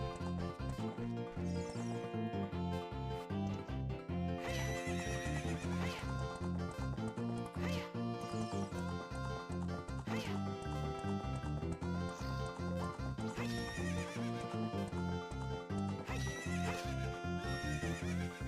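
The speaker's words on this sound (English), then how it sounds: "Come here, horsey." Horse neighing and clip-clopping hooves from the video game Zelda: Ocarina of Time 3D on the Nintendo 3DS, heard steadily over loud, dense game music throughout.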